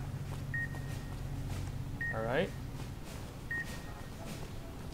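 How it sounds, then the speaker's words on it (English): Three short electronic beeps repeat at a steady interval over a low hum, while someone says a brief word: a bomb collar beeping in the video game Fallout: New Vegas, Dead Money. "There, my collar stopped beeping."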